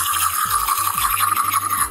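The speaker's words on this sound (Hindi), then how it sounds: "यह आवाज है ब्रश करने की।" Toothbrush scrubbing teeth in quick back-and-forth strokes, a steady bristly hiss with rhythmic rubbing pulses, close and fairly loud throughout with no talk.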